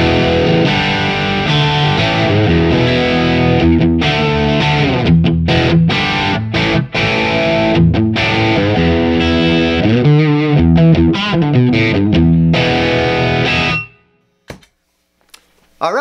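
Electric guitar played through the dirty channel of a Synergy tube amp with the Bravado module, a loud distorted run of chords and riffs that stops abruptly near the end, leaving brief silence and a few faint clicks.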